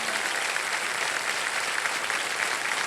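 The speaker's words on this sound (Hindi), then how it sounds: "और आप सब लोग ताली बजा दीजिए स्नेहा जी के लिए।" Studio audience applause on the KBC quiz show, a dense, even roar of many hands clapping, steady and sustained with no voices over it.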